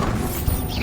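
A Bombarda blasting spell from Hogwarts Legacy lands with a single short thudding crash about midway, rising out of a steady low rumble of game background sound.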